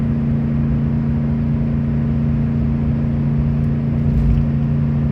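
A pickup truck engine under heavy load towing a roughly 15,000 lb trailer uphill, a steady low droning hum with strong tonal bands, continuous and close throughout with no talking.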